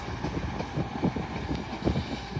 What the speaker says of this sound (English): Also departing now is a Northern 195, working a service starting here at York